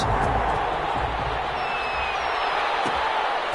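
Steady stadium crowd roar from a football video game before a Houston Texans versus Las Vegas Raiders matchup, a continuous broad wash of noise with no distinct cheers or claps standing out.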